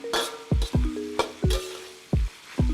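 Onions frying in a pan for homemade fried rice, a steady sizzle broken by a run of sharp scraping stirs at irregular intervals, close and fairly loud with no talking.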